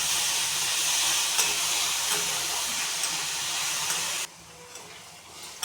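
Semolina sizzles and hisses in a hot pan as it is roasted toward a reddish colour, a steady broadband frying hiss that cuts off abruptly near the end, leaving quieter stirring noises.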